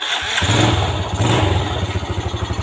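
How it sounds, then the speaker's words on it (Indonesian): A Yamaha Jupiter Z motorcycle engine, carbureted rather than fuel-injected, cranks on the electric starter and catches, settling into a loud, close, rhythmic idle putter. "udah kayak gini baru kita tes kita tes kita starter"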